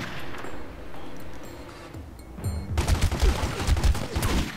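Heavy gunfire in The Godfather game: a steady rattle of shots that swells into dense, rapid overlapping volleys halfway through, loud and continuous with no talk over it.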